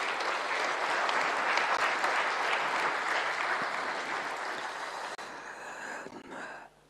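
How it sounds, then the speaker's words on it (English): A large audience at a state event with Tanzania's president gives a sustained round of applause, dense and loud clapping from many seated guests that slowly thins and fades away at the end. "please, another round of applause."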